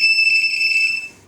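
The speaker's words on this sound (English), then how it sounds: "We can hear the beep sound." A TD168R pager reminder device gives a single sustained electronic beep, a bright steady tone, close and loud, that fades out near the end.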